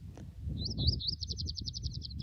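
A yellow-eyed junco gives a rapid, high trilling chirp series, fairly faint, over a low rumbling background, at a spring in Arizona's Huachuca Mountains.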